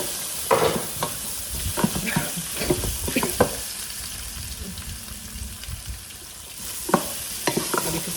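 Potatoes sautéed in a pan and stirred, crackling sizzle with repeated scraping and clattering strokes near the start and end, a calmer hiss in between, close up with no talk.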